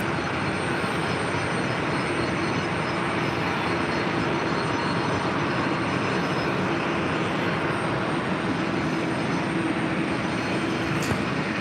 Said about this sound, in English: That is WestJet Flight 1680 coming in from Calgary there in Canada, 737-800.